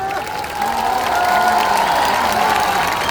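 Crowd at a Prashant Kishor political rally clapping and cheering in a steady, loud roar, with a voice over a loudspeaker audible within the noise.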